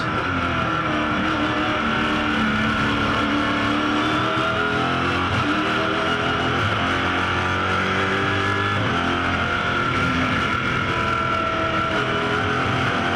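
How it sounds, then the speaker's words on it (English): A GT race car engine drones steadily from inside the cockpit during a race at Bathurst, its pitch rising and falling gently as the throttle is eased on and off. "you can just hear waiting for the throttle, applying it gently"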